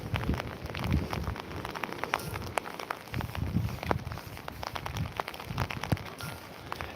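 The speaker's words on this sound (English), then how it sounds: "It is raining, it is miserable." Steady rain patters and splashes across a surface, a constant wet hiss with scattered sharper drops throughout.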